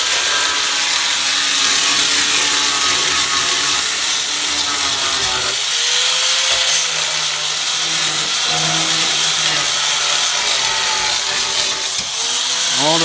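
Power grinder removing glue from the corner of a 2007 Mustang race car during the build, a loud continuous abrasive whine with shifting pitch, running close throughout.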